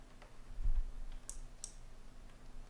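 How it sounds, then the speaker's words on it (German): A SIM card snaps into the slot of a Telekom Speedport Hybrid router with two faint, sharp clicks, close by and quiet over a low steady hum, with no one speaking. "Und zwar so, bis ich ein kleines Klickgeräusch höre."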